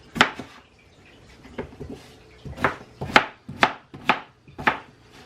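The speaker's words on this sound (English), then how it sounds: "I actually have 2 more potatoes I'm going to quick cut up too here" Knife chopping russet potatoes on a cutting board, a run of sharp, close knocks in uneven bursts, with short pauses between clusters of cuts.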